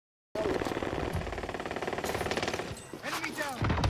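Rapid automatic gunfire in Call of Duty on Rebirth Island, a loud close burst of fast repeated shots with game voice chatter mixed in.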